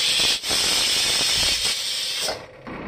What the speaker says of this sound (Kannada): ನಾನು ಇದನ್ನು 2 ವಿಸಿಲ್ ಕೂಗ್ಸಿದ್ದೀನಿ